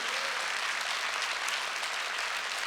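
Church congregation applauding during a worship service, a steady dense clatter of many hands clapping throughout, close and fairly loud, with no talk over it.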